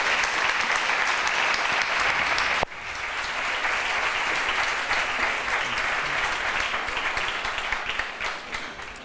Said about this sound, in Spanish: me parece que se merece un aplauso a mis compañeros de la mesa